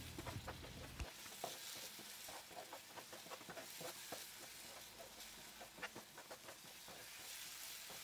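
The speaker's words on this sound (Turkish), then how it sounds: "Evet, şerbetin hepsini döktüm ve kavurmaya devam ediyorum." Halva being stirred and roasted in a pan after all the syrup has been poured in, giving a steady wet sizzle with dense scraping and stirring clicks throughout, close and moderately quiet, with no talking.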